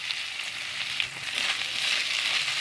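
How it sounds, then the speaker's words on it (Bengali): Chopped tomatoes with salt fry steadily in a pan, giving a continuous close hiss and sizzle with a few soft stirring scrapes and no voices. "টমেটোটাও ভালো করে ভেজে নিয়েছি"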